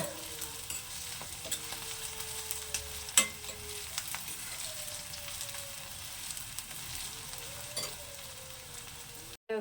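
Ginger, green chili, curry leaves and onion fry in a pan with a steady, soft sizzle, broken by occasional stirring scrapes and one sharper clink, with no talking.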